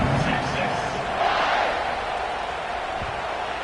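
Football stadium crowd at Alabama versus Texas roaring steadily after a scoring drive, a dense sustained wash of cheering that fills the whole clip with little variation.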